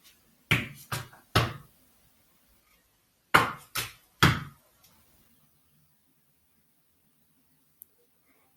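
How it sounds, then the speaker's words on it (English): Two sets of three sharp tap shoe beats on a hard floor, each a quick touch, heel dig and toe drop riff, close and clear with silence between and after. "Make 3 beats or sounds."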